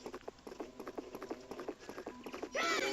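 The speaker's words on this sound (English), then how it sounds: "Let's ride these horses." Horse hooves from Zelda: Majora's Mask clip-clop in a quick, regular trot at moderate volume, followed by a brighter burst of game sound at the end.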